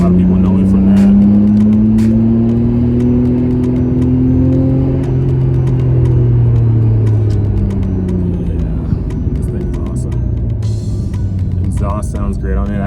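A supercharged Audi S5 engine idles and rumbles loudly with slowly shifting revs, alongside faint clicks and talk near the end.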